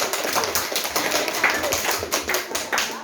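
Schoolchildren clap for their classmates in a classroom, a steady run of light, rapid claps that continues evenly throughout.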